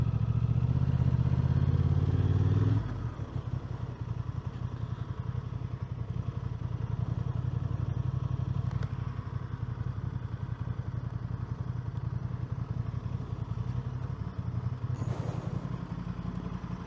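A motorcycle ridden at speed through a residential area with speed bumps, its steady engine rumble and road noise continuing without slowing, with a heavy thump near the start and occasional clatter.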